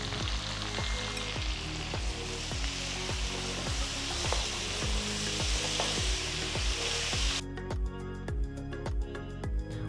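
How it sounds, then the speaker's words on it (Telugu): Six medium onions, sliced lengthwise, frying in a kadai for biryani, giving a dense continuous sizzle, close and fairly loud, with a steady rhythmic pulsing thump running beneath it and a sharper crackly texture near the end. "అదే కడాయిలో నేను 6 మీడియం ఉల్లిపాయల్ని ఇలా పొడవుగా కట్ చేసి వేస్తున్నాను."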